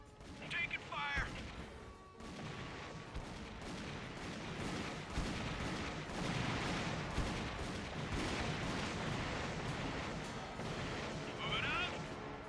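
Dense battle gunfire from the Army Men: RTS game: a steady wash of rapid shots, bursts and crashes filling the whole stretch at constant loudness, with brief in-game voice callouts near the start and end.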